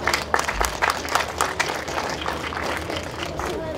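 An audience applauds a speaker at a hotel opening ceremony, moderate crowd clapping that starts with a few sharper claps, then settles into an even wash.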